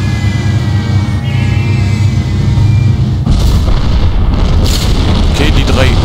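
Bombs explode in the video game Sniper Art of Victory, with a deep rumbling blast bursting in midway and crackling debris afterward, loud over a steady game soundscape while a voice talks.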